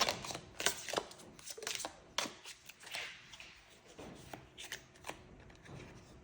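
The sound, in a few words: shuffling tarot cards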